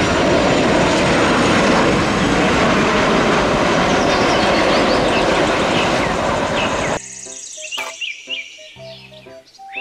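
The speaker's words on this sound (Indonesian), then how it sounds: "Pesawat terbang." A loud, continuous airplane engine roar comes from a toy video and fills most of the clip. It then cuts off abruptly into light music.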